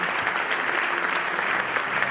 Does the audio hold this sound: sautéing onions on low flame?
no